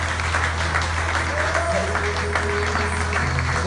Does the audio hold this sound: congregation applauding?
yes